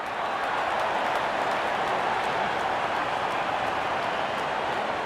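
A cricket crowd at an India versus England T20 World Cup match roars and cheers in a dense, continuous wash of noise, with no clear peaks and no distinct voices standing out.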